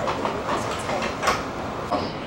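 A train running with the same type of cars used on the Sunliner, heard from on board as a steady interior rumble with faint rhythmic clicks over the rails and a few brief louder bumps.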